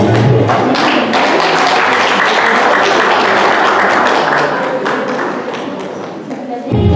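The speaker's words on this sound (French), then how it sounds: "Et la famille applaudit très chaudement." Family members applauding at a vow renewal ceremony, dense continuous clapping that holds steady for several seconds before stopping abruptly near the end, with talk mixed in.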